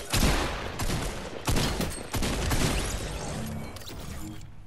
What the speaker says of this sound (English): I hear shots again.